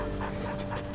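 Steady, close panting from a well-behaved pet dog indoors, continuous rapid breaths filling the whole moment with no talking.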